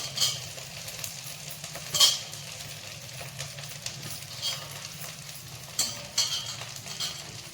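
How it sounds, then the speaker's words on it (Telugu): Coriander leaves cook down in a pan for a stored pickle, a soft steady sizzle under occasional scraping and stirring clinks of a spoon against the pan, close and fairly quiet, with no talk. "కొత్తిమీర అంతా ఇందులో పెట్టేసి బాగా మగ్గనిద్దాం."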